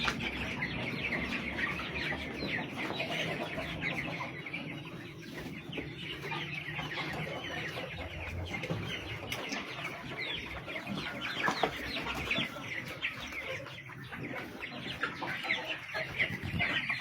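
Hens cluck continuously on a poultry farm at a community development centre in Cameroon, a dense, busy flock chattering close by with overlapping calls throughout and no talking.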